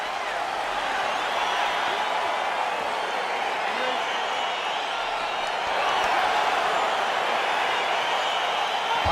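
A virtual arena crowd in EA Sports UFC 4 roars as a Doo-ho Choi fight gets underway, a broad, steady wall of cheering that swells slightly toward the end, with commentary voices faintly underneath.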